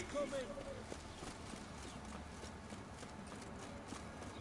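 Horse hooves clip-clopping in The Witcher 3 video game, a steady run of light hoofbeats at moderate distance over game ambience, with someone talking over them.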